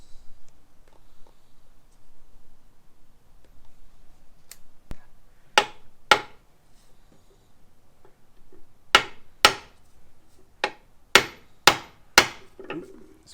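Sharp metallic hammer strikes knocking a bearing out of a Toyota Land Cruiser 100 transfer case, first a pair, then a steady run of about seven blows in quick rhythm, close and loud over a quiet background.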